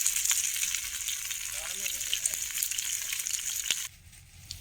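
Fresh tilapia caught from a dam frying on a hot griddle outdoors, a continuous bright sizzle with occasional crackles and scrapes, dropping off sharply near the end.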